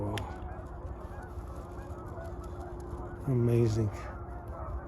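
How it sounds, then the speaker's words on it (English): Canada geese give a brief burst of honking from the water on a dark night, a loud cluster of calls near the end amid low steady background noise, with a person speaking briefly. "some of the Canadian geese"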